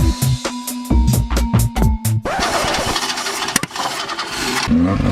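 A Chevrolet Nova's car engine cranks in repeated bursts, catches and starts, then roars loudly with sustained revving close by, no talk over it.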